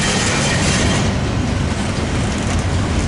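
Metrolink commuter train 622 heading southbound toward Laguna Niguel and Mission Viejo, led by locomotive F-125, passing close by at Commerce with a loud, steady rumble and rhythmic clatter of wheels on rail throughout.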